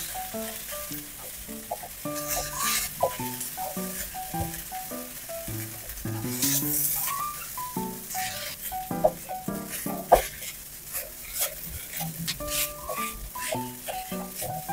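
Vegetables and cold leftover rice sizzle in a pan for special fried rice, a steady frying hiss broken by stirring scrapes and utensil clinks, with faint background sounds.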